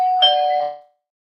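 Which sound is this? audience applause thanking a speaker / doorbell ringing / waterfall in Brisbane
doorbell ringing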